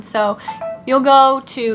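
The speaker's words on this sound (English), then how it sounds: "sorry that was my phone" A mobile phone's melodic ringtone or notification chime rings out in short tonal bursts, loud and close, with someone talking over and between the tones.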